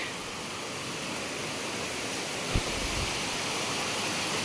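A small stream in the Konkan countryside flows with a steady, broad rushing hiss, continuous and close, with one soft knock partway through and no voices.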